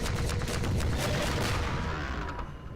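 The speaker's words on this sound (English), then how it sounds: "I'm just gonna take him out with a rocket." A rocket launcher fires at an enemy in Half-Life 2, giving a heavy, booming blast with a rumbling roar that carries on, then slowly fades out over about three seconds.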